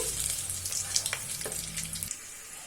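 Whole spices such as cloves, black cardamom, star anise, bay leaf, kasuri methi and shahi jeera sizzle in hot oil for mushroom biryani, a steady close crackle with faint clinks, cutting off near the end.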